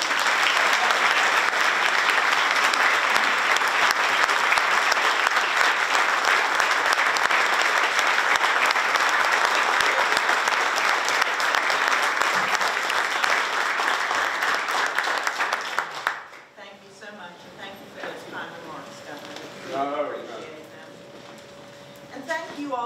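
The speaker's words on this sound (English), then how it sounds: "So let's give her a big round of applause." An indoor crowd gives a former First Lady a sustained round of applause, dense and loud for about fifteen seconds before stopping abruptly. A single voice then speaks over quiet room sound.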